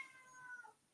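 A pet cat gives a single short meow, faint and close, lasting under a second and trailing off quickly.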